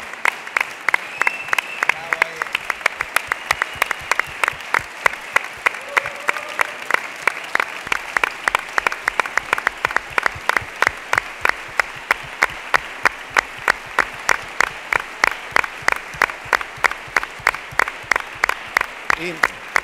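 Sustained audience applause at the closing ceremony of an international congress on cooperative physical activities, a dense steady patter of many clapping hands lasting the whole stretch at even loudness.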